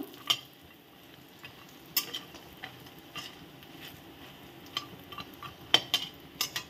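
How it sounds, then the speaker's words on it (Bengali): Lentil dumplings frying in a pan with dried chillies and bay leaves, a soft steady sizzle broken by sharp, irregular scrapes and clinks of a spoon stirring against the pan, close by with no talk. "একই সাথে আমি দিয়ে দেব শুকনো লঙ্কা, দিয়ে দেব তেজপাতা, এগুলো দিয়ে একটু ভেজে নেব বড়িগুলো।"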